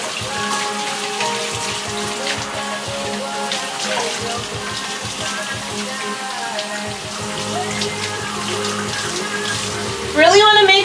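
Water runs steadily while soap is rinsed off a Bichon Frise being bathed at home, a continuous splashing wash with no talk, rising briefly louder at the very end.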